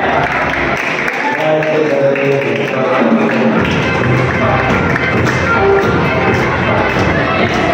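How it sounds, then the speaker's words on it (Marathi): Students clapping at a college freshers party, loud scattered claps and taps mixed with a noisy, excited crowd, close and sustained throughout with voices in the mix. "टाळ्या वाजवा."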